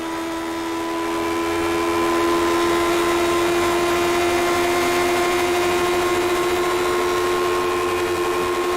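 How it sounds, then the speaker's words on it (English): A Lotus 79 racing car's Cosworth DF engine in the iRacing game drones steadily at high revs at Le Mans, a loud sustained whine with strong harmonics and no talking. "listen to this Cosworth DF as it starts to hit high revs."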